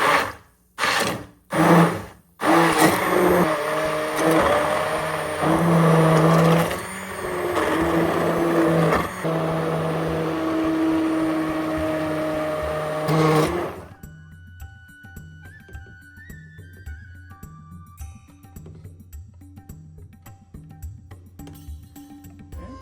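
A blender whirs loudly and steadily, puréeing cooked mixed vegetables into a winter soup, running for about thirteen seconds before cutting off to quieter kitchen clatter.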